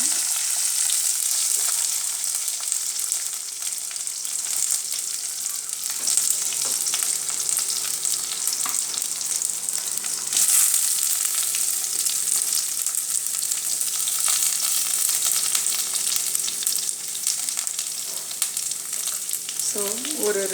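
Curry leaves and chopped onions sizzle and fry steadily in a hot pan while a mutton curry is cooked, a close, continuous crackle with occasional stirring and no talk.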